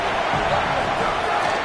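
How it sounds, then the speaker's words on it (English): A football stadium crowd at an NCAA game rises in a loud, steady roar, a dense wash of many voices close and unbroken throughout, with no clear individual speech. "This crowd rising up,"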